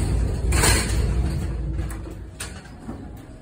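A Schindler MT 300A elevator door at a Nordstrom store in a shopping mall slides along its track with a loud, smooth rumbling whoosh, close by, settling into quieter rattles toward the end.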